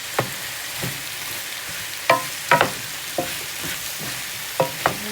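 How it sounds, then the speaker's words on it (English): Minced fresh garlic, seasonings and oil stirred in a pan for a quick hash, with a steady sizzle under about a dozen sharp scrapes and clicks of the utensil against the pan, close up and with no talking. "just gonna stir this up, get those seasonings and oil distributed"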